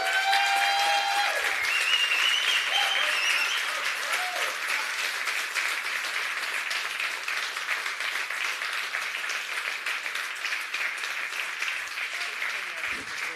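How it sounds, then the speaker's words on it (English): At a Hungarian sommelier championship, an audience applauds the winning Polish team with steady, moderately loud clapping that runs throughout, while a voice speaks over the opening seconds. "Round of applause to the Polish team."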